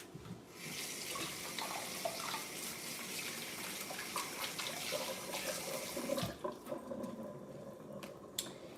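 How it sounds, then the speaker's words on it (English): Hands washed under a running tap at a sink, a steady close rush of water with splashing for about six seconds before the flow stops, leaving a few faint drips and clatters. "wash my hands."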